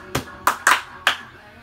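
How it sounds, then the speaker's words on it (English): Hand clapping in a playful game, four sharp claps in an uneven rhythm, close and fairly loud with little else around them. "Horrible clapping skills."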